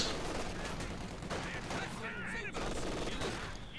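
Mortar barrage and gunfire in the Company of Heroes 2 strategy game, with a steady roar of dense overlapping bursts and distant rattling fire lasting throughout.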